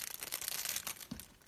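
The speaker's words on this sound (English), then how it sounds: "we will use this plastic bag" Plastic bag crinkling and rustling nearby while eyelash packs are handled, a steady crackly rustle lasting the whole moment with no talk.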